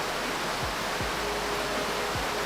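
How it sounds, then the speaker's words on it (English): Steady broadband rush of a waterfall in the fishing game Catch and Release VR, a constant, loud wash of falling water with no break, plus a few soft low thumps. "Tell me if the waterfall is too loud"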